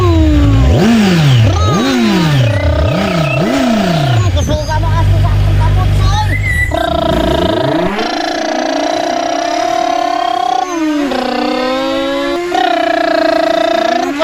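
A voice imitates a motorcycle engine revving, with repeated rising and falling vroom sounds that are loud and close, then shifts into steadier, sustained buzzing tones.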